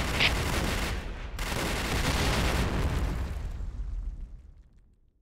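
A grenade detonating in the Point Blank shooter game: one big loud blast that rolls on for several seconds, then slowly fades into a dwindling rumble, with no voices.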